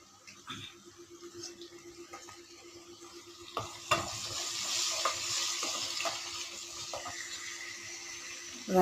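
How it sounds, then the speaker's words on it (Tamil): Onions sautéing in oil in a pan, a soft continuous sizzle with occasional scraping stirs and spoon knocks, growing louder and busier in the second half. "வெங்காயம் நல்லா வதக்கிட்டு இருக்கு காய்ஸ்."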